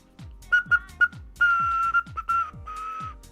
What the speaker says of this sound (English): Always test your whistles at low pressure when you're making the water whistles